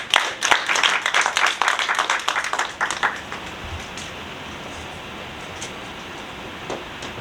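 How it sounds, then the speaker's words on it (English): An audience gives a short round of applause, with dense close clapping for about three seconds before it tapers off into quiet room tone and a few scattered claps. "So you should give yourselves a round of applause."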